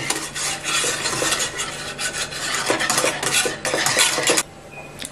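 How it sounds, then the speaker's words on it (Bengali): A whisk briskly mixes full-cream milk powder into warm milk in a bowl, a rapid rhythmic scraping and swishing that runs continuously before stopping near the end, close and without speech. "এখন একটা হুইস্কের সাহায্যে এটাকে মিশিয়ে নিব"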